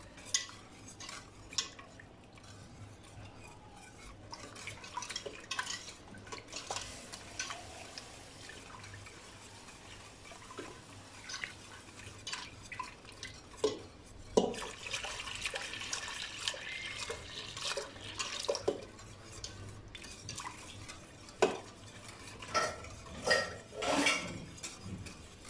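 Starch stirred into cold liquid in a pot with a spoon scraping and clinking against the metal, soft and close with scattered sharper taps over a quiet kitchen background.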